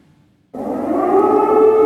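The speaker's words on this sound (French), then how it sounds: "Sirènes d'alerte et tirs d'artillerie au lever du jour" An air raid warning siren in Kyiv starts suddenly after a brief quiet and swells into a loud, sustained wail that holds steady to the end, with no speech.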